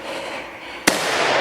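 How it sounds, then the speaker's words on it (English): A single rifle shot at a wounded wild boar in a Hungarian hunting setting, one sharp, loud crack cutting through a steady outdoor rush of wind or foliage. "The boar turns and I deliver another insurance shot."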